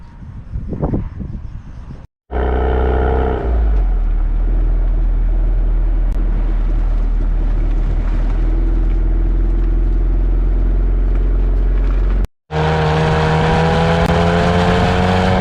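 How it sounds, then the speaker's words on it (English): A 2018 Chevrolet Camaro RS engine heard from inside during a ride along, loud sustained drone with rising revs and harmonic engine tones, interrupted by two brief gaps. "Chevrolet Camaro. Even though this car been around for over 50 plus years, still a badass rocking car."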